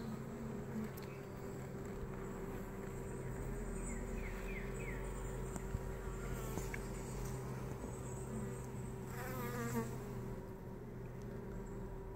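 Honey bees from a swarm housed in a mobile home hive hum steadily at low volume throughout a frame-by-frame hive inspection, with a constant insect drone and faint scattered sounds but no talking.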